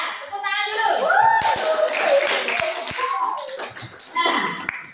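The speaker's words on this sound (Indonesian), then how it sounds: "Ya, tepuk tangan dulu." Students in a classroom clap their hands, a burst of brisk, close applause mixed with voices and children chattering, thinning out toward the end.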